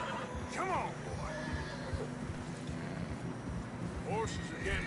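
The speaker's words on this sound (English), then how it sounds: "Horses are getting tired." In a video game, horses whinny a few times over a steady windy rumble in fresh snow, with soft hoof movement and a voice briefly under the noise.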